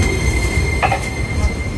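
A city tram in Japan rumbles along loudly with a steady low roar, a high whining tone, and a brief metallic squeal midway.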